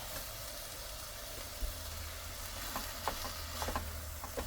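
Noodle stir fry with hoisin sauce being stirred in a pan by a UK truck driver, a steady close sizzle with scattered scraping and stirring clicks, with no talking.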